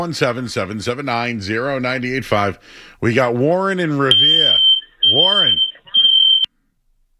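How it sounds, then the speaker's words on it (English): A smoke alarm goes off in a sports talk radio studio: someone talks, then three shrill, piercing beeps sound in quick succession, partly over his speech. "Hey, your smoke alarm's going off."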